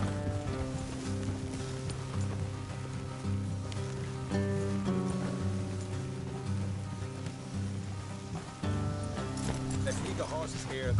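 Horses clip-clop steadily through Red Dead Redemption game audio, hoofbeats mixed with rain, occasional neighs and background music, while voices talk over them.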